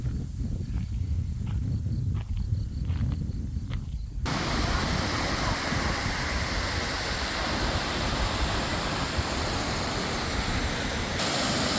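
A waterfall beside a field with an old wall pours out a broad, steady rush of water that fills the whole clip. The roar grows louder and denser partway through, and nobody talks.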